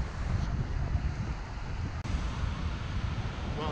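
Surf rolls in at Melasti beach in Bali, a rough, continuous wash of waves at a rocky shore, buffeted by strong wind noise across the microphone.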